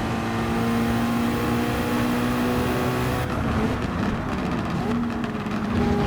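Toyota GT-One race car in Gran Turismo 7, a stock 700-horsepower GR2-class machine, droning steadily with a sustained engine note that shifts pitch partway through, under a voice talking over it.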